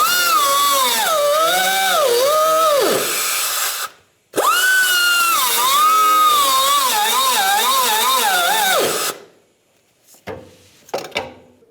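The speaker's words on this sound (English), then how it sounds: "Now if you take a air chisel and you're going to crisscross this, break those nubs off." An air chisel breaks rivet nubs off a rear shock mount bracket on a 1992-1996 Ford F-150, two long loud sustained pneumatic hammering bursts with wavering pitch and a short pause between, then a few faint clanks as it stops.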